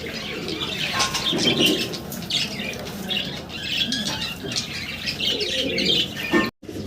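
Short face pigeons in a loft, with wings flapping and birds cooing and squawking close by amid a busy flock, steady throughout and then briefly cut off near the end.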